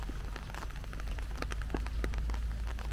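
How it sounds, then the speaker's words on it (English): Rain pattering onto surfaces at a park in Tagaytay, Philippines, steady close dripping and tapping over a constant low rumble. "it's raining despite some blue sky"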